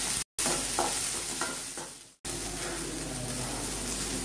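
Chopped green chillies sauté in a pan for poori potato masala, a loud, continuous sizzle with scraping stirs, broken by two brief moments of silence.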